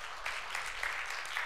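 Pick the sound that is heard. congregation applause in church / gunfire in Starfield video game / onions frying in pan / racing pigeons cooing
congregation applause in church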